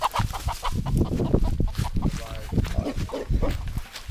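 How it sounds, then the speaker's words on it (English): Frightened pigs on a farm squealing and grunting in agitated bursts, with chickens clucking nearby and people talking over the commotion. "The pigs are getting scared."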